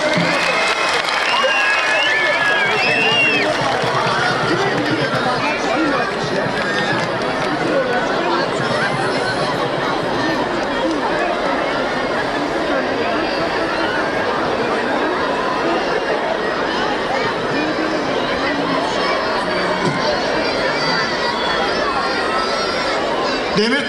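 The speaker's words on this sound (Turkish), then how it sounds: "Daha büyük bir alkış." A crowd at an outdoor 23 April children's celebration in Demirtaş, Osmangazi, Bursa, claps and cheers in a steady, dense wash that carries on throughout, with chatter, laughter and shouting mixed in.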